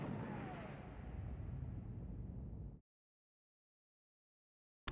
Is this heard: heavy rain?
no